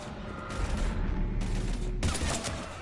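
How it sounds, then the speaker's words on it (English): Heavy gunfire from a battle in the video game Mass Effect 3, fought against husks. Dense bursts of shots come in rapid volleys one after another, loud and continuous, with rumbling booms beneath. "We're taking heavy fire."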